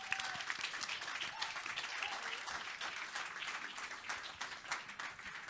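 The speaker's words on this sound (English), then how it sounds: "Another round of applause for them, please." Conference panel audience claps in sustained, even applause that continues across the whole stretch, fairly close and full.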